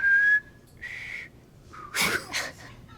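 A person whistles a few short tones, a clear sustained note followed by a higher one, then a couple of breathy, airy attempts, close and fairly loud against a quiet room.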